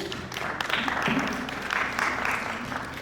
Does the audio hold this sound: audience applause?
yes